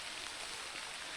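Rain falling on a hiking trail on the Cohos Trail, a steady soft hiss of drops that holds evenly throughout a brief, faint stretch.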